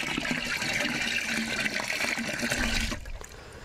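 Cow urine being poured and mixed to prepare jeevamrutha: a continuous liquid splashing and pouring sound, close and fairly loud, tailing off near the end.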